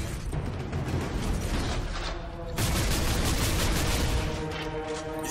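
Sustained, dense gunfire rages while a Space Marine fires on an ork Warboss in a battle in Warhammer 40k Space Marine, loud and continuous with a sharper surge of shots midway, with no talk.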